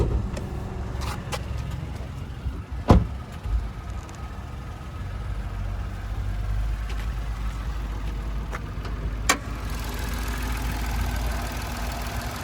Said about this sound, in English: And there's that 3-cylinder engine there.